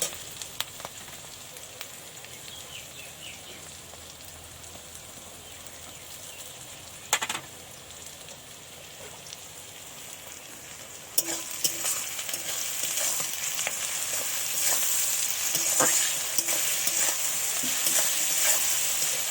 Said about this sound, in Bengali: এটা একটু নাড়াচাড়া করে ভেজে নেবো